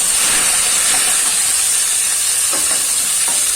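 Chopped tomatoes hit golden fried onions in a hot pan for a vegetable dish, producing a loud, continuous close-up hiss of sizzling with a few faint stirring scrapes near the end.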